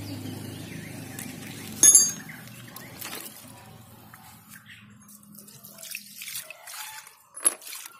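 Water trickles and drips onto a bike chain and gear being wetted for washing, soft splashes and drips with a brief clink, faint and intermittent.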